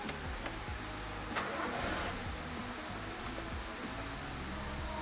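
An old carbureted car engine cranks and sputters with uneven mechanical chatter, without throttle, at a used car market. It is continuous and fairly close, as though struggling to catch.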